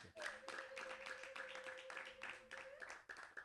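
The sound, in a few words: congregation clapping for the Lord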